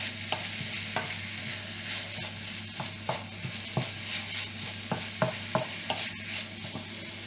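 Ground meat being broken up as it fries in a pan, a constant low sizzle punctuated by repeated utensil scrapes and taps at irregular intervals.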